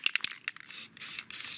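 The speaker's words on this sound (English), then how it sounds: "spray it on just to provide" Grey primer sprayed from an aerosol can onto a craft stone wall for a tabletop dungeon: a few quick rattles and short puffs, then two longer hissing bursts, close and clear.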